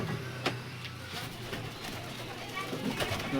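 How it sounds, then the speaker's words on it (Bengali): Pigeons coo softly nearby while people talk over them, the low murmuring calls blending into the background. "এখানে পায়রা আছে"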